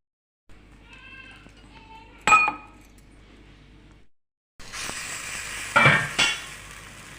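Appe batter poured into a hot appe pan, sizzling and frying in two bursts separated by a short pause, close and fairly loud, with clinking of utensils against the pan.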